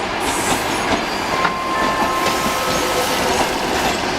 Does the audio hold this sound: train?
yes